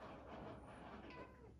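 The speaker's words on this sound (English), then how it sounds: "The cat is meowing behind me." A house cat meows behind the speaker indoors in a faint, drawn-out call that carries over a quiet room.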